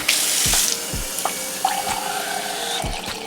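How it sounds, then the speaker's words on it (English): Water splashes and trickles into a bowl for a few seconds, a brief pour followed by light clinks and small knocks nearby, while preparing a sauce for steamed fish. "And then I like to just put a little bit of water."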